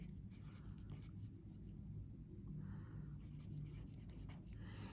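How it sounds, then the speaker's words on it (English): A fine liner pen scratches faintly across paper while a name is written, soft irregular strokes with short pauses, quiet and close, no talking. "The first thing that I'm going to do is write out my name."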